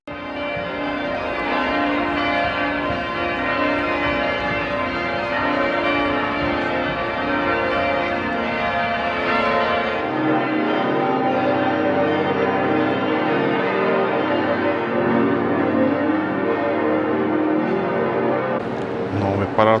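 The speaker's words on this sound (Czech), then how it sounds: "Vypadá to, že ty zvony svolávaly ke mši" Church bells in Würzburg peal continuously to call people to mass, a dense, loud wash of overlapping tones that fills the whole town.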